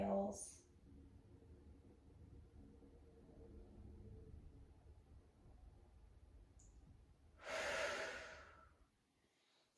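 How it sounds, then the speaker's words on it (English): Quiet, slow breathing during a mobility class: a soft breath at the start, a long hushed stretch, then one deep, airy exhale near the end, close and alone. "Long, slow inhales. Big, deep exhales."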